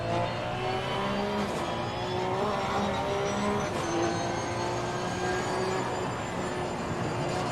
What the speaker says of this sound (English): you bolt the throttle to the bulkhead and you just crank the gears until it cries no more